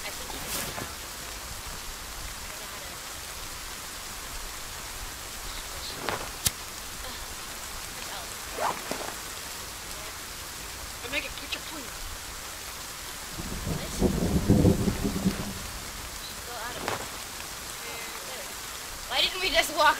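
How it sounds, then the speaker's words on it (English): Steady rain hisses through the forest in the survival game The Forest, with a low rumble of thunder swelling briefly near the middle and a few faint clicks and knocks scattered across the downpour. "Thunder."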